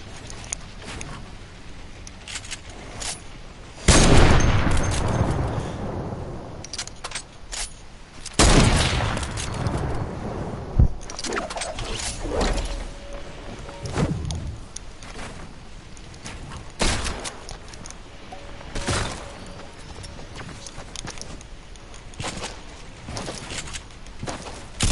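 Video game gunshots ring out as several loud, sharp blasts spread across the stretch, each trailing off, with quieter clicks, taps and ambient game noise in between.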